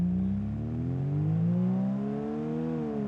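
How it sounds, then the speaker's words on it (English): Diesel engine of an ETK W series mod car in BeamNG.drive hums steadily, its pitch slowly rising and easing as the car pulls off, continuous and moderately loud with no voices. "it does have a unique sound within the car engine as you're hearing right now"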